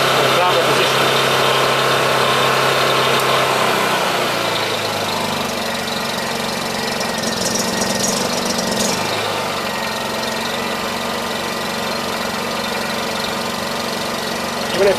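A Honda EU2200i inverter generator converted to run on propane idles with a steady, continuous engine drone, close and fairly loud, holding an even hum throughout with slight shifts in tone midway.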